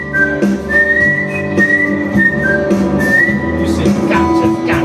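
A person whistles a melodic tune up close, phrases rising and falling over steady background noise.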